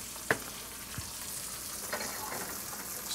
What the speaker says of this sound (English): And let's just drop in our egg.